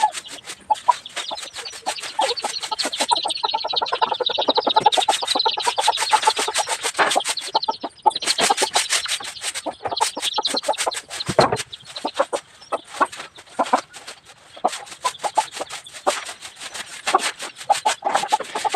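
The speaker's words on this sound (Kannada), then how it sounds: "ಈ ಕಡೆ ಪಂಜರದೊಳಗೆ ಮರಿ ಕೋಳಿನ ಕೌಚ್ ಹಾಕಿದ್ದೀವಿ" A hen with young chicks, kept in a cage at a village home, clucks repeatedly in short bursts. Scratchy rustling and clicking carry on steadily for nearly twenty seconds.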